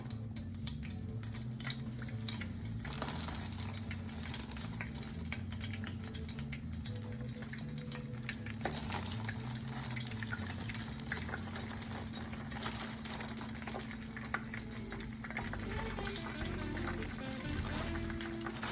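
Chicken strips fry in hot oil with a steady, close bubbling sizzle and crackle that holds at an even level throughout, with a low hum underneath and no talking.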